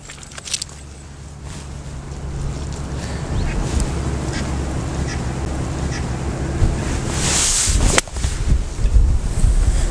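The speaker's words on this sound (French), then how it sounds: "Il y a le vent qui pousse un petit peu." Wind gusting on a golf course buffets the microphone with a low rumbling roar that builds over the seconds, broken by a few sharp knocks.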